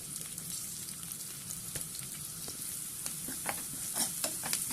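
Chopped garlic, green chilli and onion fry in hot oil, giving a steady crackling sizzle, with a scatter of sharp pops and spatters growing busier toward the end, close and fairly quiet.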